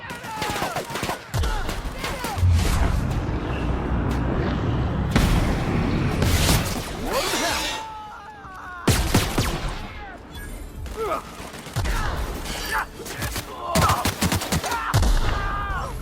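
Gunfire rings out in The Outer Worlds as sharp, loud shots and rapid bursts arrive in clusters, with mechanical clatter and voices in between.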